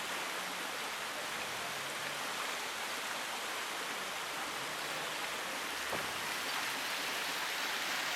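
Fountains in the square of an old Lower Austrian town splash steadily, making a dense, even hiss of falling water that fills the whole stretch without a break and without voices.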